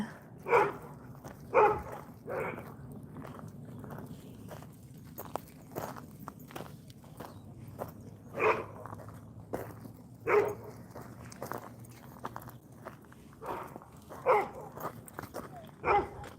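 A dog barks in short sharp bursts outdoors in a suburban neighbourhood, heard several times at moderate distance over steady footsteps and low background rumble.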